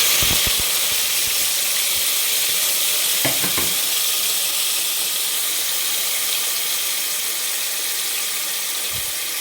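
Tomato pieces frying in 2-3 tablespoons of hot oil, a loud, continuous hissing sizzle with a few stirring clinks near the start, steady throughout.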